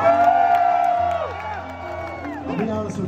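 Concert crowd at a show cheering and whooping loudly and steadily throughout, with shouts rising again toward the end.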